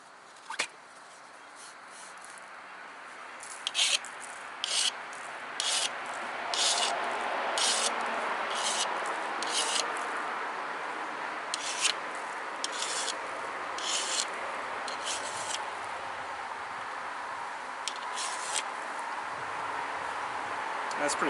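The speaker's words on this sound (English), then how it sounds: "So I'm going to sharpen the tool again." A pressure flaker for flintknapping obsidian being resharpened, heard as a steady hissing abrasion with repeated rhythmic scraping strokes, close and fairly loud, running continuously for about twenty seconds.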